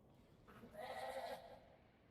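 A single sheep bleat alert sound from the World of Warcraft video game rings out for about a second, moderately loud and alone with no talk, over faint background noise.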